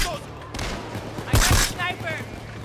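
Light machine gun fire in the video game Payday 2, a short loud burst of rapid shots over game ambience.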